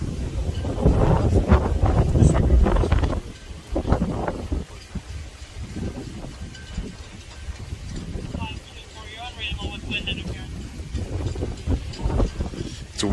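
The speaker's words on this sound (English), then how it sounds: "It's very windy out here." Strong wind gusting across a microphone outdoors, rumbling and buffeting in bursts while people talk over it.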